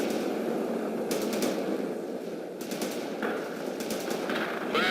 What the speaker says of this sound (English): Bradley firing from position.